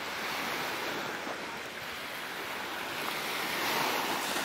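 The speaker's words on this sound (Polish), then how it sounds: "No teraz są takie lekkie, lekkie fale, ale to jest maks." Light, gentle sea waves wash against a calm sandy beach on Corfu, making a continuous soft hiss of surf with no distinct breaks, steady and fairly quiet.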